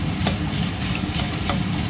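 Carrots and ground meat frying in a pan, a steady close sizzle with light stirring scrapes and a few soft clicks against the pan, continuous and alone without talking.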